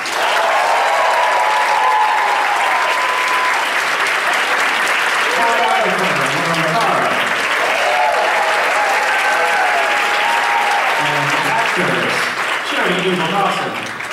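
Audience applause at a BroadwayCon 2020 panel for Mrs. Doubtfire: a large crowd claps loudly and continuously throughout, with cheers and voices rising over the steady wash of hands.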